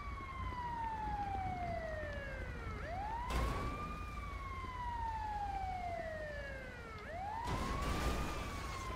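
A wailing ambulance siren in the video game LSPDFR sweeps repeatedly down and up in long cycles, fairly distant and steady, with engine rumble beneath and no talking.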